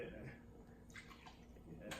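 Papa's Pilar rum poured awkwardly from its heavy decanter-style bottle, a steady trickling, dripping liquid sound close by with a person talking over it throughout.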